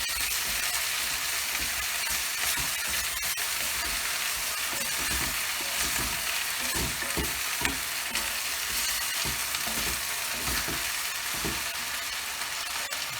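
Food sizzles steadily in a pan while being stirred, the close, even frying hiss broken by repeated scraping and knocking strokes, with no voices.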